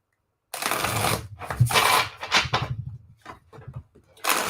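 Tarot cards are shuffled close by in a steady, papery riffle and rustle lasting several seconds, with brief pauses between bursts and no voices.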